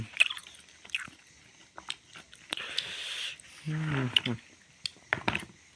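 Someone eats a Thai rice meal with a spicy pounded salad and bamboo-shoot soup, with scattered crunchy bites and chewing clicks, close and intermittent, alongside brief vocal murmurs.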